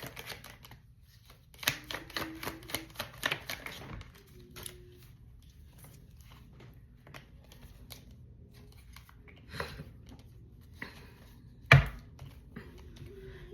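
Tarot cards are shuffled by hand in quiet, soft riffling bursts of rapid papery flicks, followed by scattered light taps and one sharper knock, close and fairly faint.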